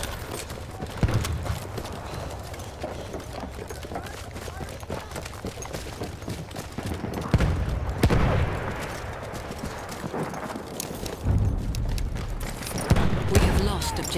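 Machine gun fire during a Battlefield 1 battle, rattling in bursts amid explosions and chaotic game noise, with voices shouting over it.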